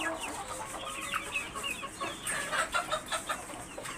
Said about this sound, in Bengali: এগুলো সবই আলহামদুলিল্লাহ পাহাড়ি মুরগি